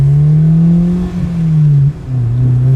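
A modified Honda S2000 engine revs hard with a loud, high, sustained drone that climbs, briefly drops off twice, then pulls back up again, heard close and alone.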